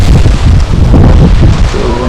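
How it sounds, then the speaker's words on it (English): Strong outdoor wind batters the microphone in loud, rumbling gusts that roll and surge up close, with no other sound standing out. "It's a little windy out here."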